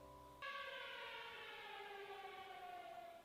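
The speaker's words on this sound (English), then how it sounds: "turn off the tornado sirens!" Tornado siren wailing in a steady drawn-out tone that swells after a brief start and then slowly sags in pitch, faint and distant, heard alone.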